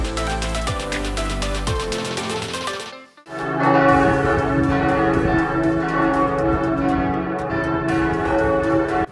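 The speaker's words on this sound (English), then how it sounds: "The day started early with the sound of church bells ringing for morning mass at 6 a.m." Church bells ring for 6 a.m. morning mass on a WWII battlefield tour, loud and close, with repeated overlapping strokes and a long resonant ring, a brief gap, then a fuller peal.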